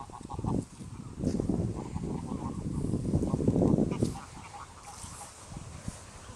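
Geese and ducks gather near a castle in Schwerin, Germany, in August before migration, honking and quacking in close, overlapping bursts, with a voice briefly heard among them.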